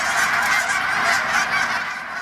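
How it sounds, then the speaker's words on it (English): A flock of geese migrating south for the winter honks loudly and continuously, many overlapping calls forming a dense, steady chorus with no talking. "you can hear and see the flights of birds towards the south for the wintertime months"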